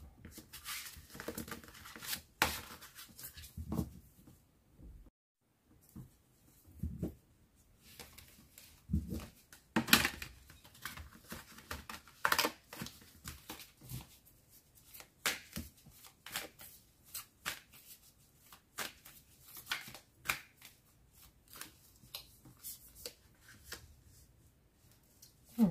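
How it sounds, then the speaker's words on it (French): Tarot cards are gathered and put away in a long series of shuffles, riffles and soft slaps, coming in bursts with short pauses, close and fairly quiet. "Donc, je vais ranger les cartes."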